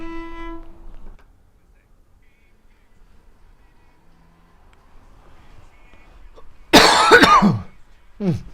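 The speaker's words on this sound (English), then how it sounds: "Coughing on mic." A single sharp, close cough after a stretch of near silence, with a brief tonal sound at the start and a short vocal noise after.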